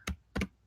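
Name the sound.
typing on a computer keyboard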